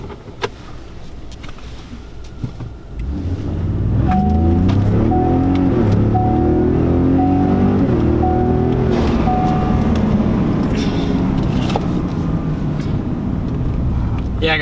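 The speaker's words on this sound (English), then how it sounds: "let's do an acceleration now. So maybe you can hear it then with the stock" A Ford Raptor with its stock exhaust accelerates: after a few seconds of quiet idle the engine rises to a loud, steady roar with a climbing pitch that holds to the end.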